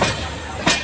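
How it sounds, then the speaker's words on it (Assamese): A passenger train travelling from Kanyakumari toward Trichy in Tamil Nadu rolls along the rails with a steady, close rumble and a brief louder rattle near the end. "ট্ৰেইন ৰখি আছে ইয়াত বেয়া ট্ৰেইন বেয়া ট্ৰেইন আৰু ভাল ট্ৰেইন গৈ আছে আগফালে"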